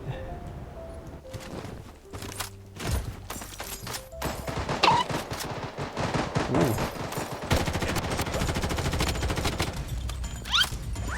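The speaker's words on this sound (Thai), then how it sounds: "ข้างล่างเขายิงอะไรกันนะ" Gunfire in the video game Blood Strike during a solo ranked match, rapid automatic bursts and single cracks firing nearly nonstop, some close and loud, others more distant, thickening into a dense, continuous barrage in the second half.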